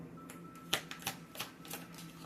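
A card pulled from an oracle deck gives a few soft papery flicks and taps, close and quiet, with a brief sharper snap partway through and no talk.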